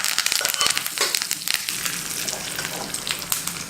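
Curry leaves and asafoetida tempered in hot coconut oil for a vegetable kootu, a loud, dense crackling sizzle with sharp spattering pops, strongest at first and settling into a steady hiss.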